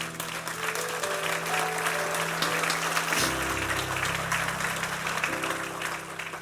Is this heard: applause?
yes